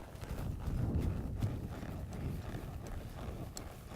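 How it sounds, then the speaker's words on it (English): A mare's hooves beat steadily on arena ground as she is loped around, a soft continuous rhythmic drumming heard close by with no talking. "I'm just going to lope this mare around"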